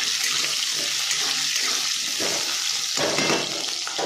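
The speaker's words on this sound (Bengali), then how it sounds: "এবার আলুটা দিয়ে একটু ভাজা ভাজা করতে হবে," Potatoes frying in a pan with cloves, giving a dense, steady sizzle that holds throughout and swells briefly near the end, with no talking.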